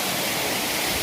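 Phurlijharan waterfall in Kalahandi, Odisha roars close and loud as a dense, unbroken rush of falling water, with no voices.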